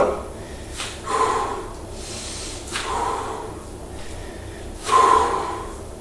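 Deep audible breaths, in and out, during a leg, thigh and glute strengthening workout, several slow airy puffs spaced about a second or two apart, close and clear with no talking.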